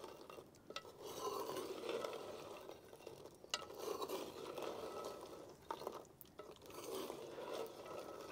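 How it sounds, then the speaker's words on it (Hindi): Ingredients fry in a pan for a traditional homemade recipe, giving a steady, close sizzle with irregular scraping and clinks of stirring throughout, and no talking. "तकरीबन 1 से 2 मिनट जो है ना, वो इनको हमने फ्राई कर लेना है।"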